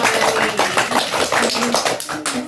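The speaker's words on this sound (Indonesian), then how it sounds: "tepuk tangan kasih ya untuk" Small group clapping during a group counseling session, close, loud and uneven, with distinct clustered claps in a loose rhythm over a couple of seconds and faint voices mixed in.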